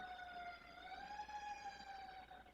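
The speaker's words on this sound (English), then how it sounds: "Did anyone else hear that siren?" A distant siren wails faintly, its tone slowly rising and falling over a low background hum, with no voices.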